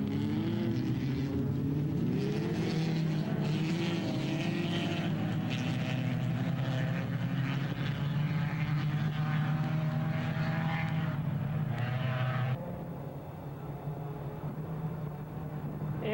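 Race cars, including a Datsun 200 SX, run in an open heat race, a loud, continuous blend of engine drone that holds steady before dropping abruptly to a fainter hum near the end.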